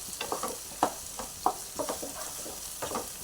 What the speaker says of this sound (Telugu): ఇట్లా చిన్న మంట మీద చేసుకుంటే కూర మంచి టేస్ట్ వస్తుందండి